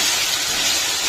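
Potatoes for an Aloo 65 curry frying over a high flame give off a steady, loud, broadband sizzle and hiss that holds evenly the whole time, with no voices.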